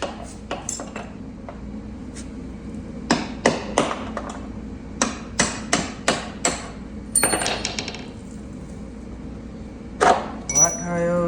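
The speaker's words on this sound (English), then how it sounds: "Hammer." A hammer strikes a punch while fitting aftermarket Kyber One ski rubbers, giving a series of sharp metallic knocks, some spaced apart and some in quick clusters, with quiet gaps between them.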